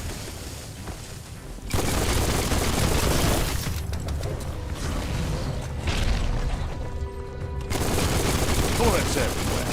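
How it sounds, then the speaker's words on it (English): Dense gunfire in the Biomutant video game, rapid overlapping shots and booms in loud bursts after a quieter opening, with some mechanical clatter mixed in. "Bullets everywhere."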